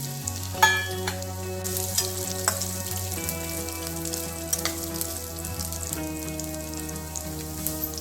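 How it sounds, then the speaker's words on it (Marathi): Freshly grated wet coconut sautés in oil in a kadai for shipi aamti, with a steady hissing sizzle and scattered light crackles over faint background music. "आता आपण खोबरं परतून घेणार आहोत"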